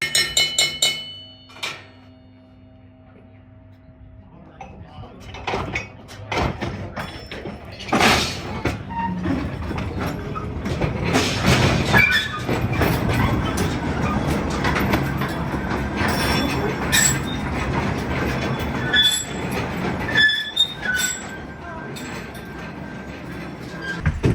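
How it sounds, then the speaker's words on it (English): A small mine tour train rumbles and clatters through a copper mine tunnel, with metallic clanks, wheel screeches and rattling that build after a quiet start and continue steadily. "The train made several stops inside the tunnel"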